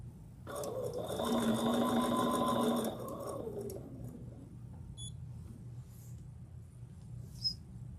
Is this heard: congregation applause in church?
no